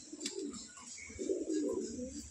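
Andhra red-necked pigeons coo softly in a couple of low, rolling phrases, close by and fairly quiet, with faint background noise.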